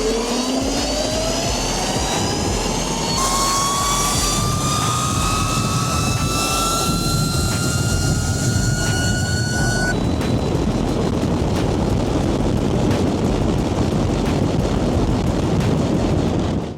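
Electric drag bikes launching from a rolling start in a roll race: a loud, rising high-pitched motor whine with layered harmonics climbs steadily for about ten seconds, then gives way to heavy wind roar.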